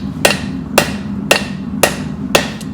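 A hammer strikes a knife blade on an anvil five times at an even, steady rhythm, each blow a sharp ringing clang close up.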